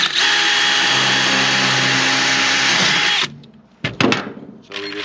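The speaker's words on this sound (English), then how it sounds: "We're just going to drill this." A power drill bores through a pre-drilled metal bracket into a wooden rafter board, running loud and steady for about three seconds before stopping, followed by a few brief knocks and handling sounds.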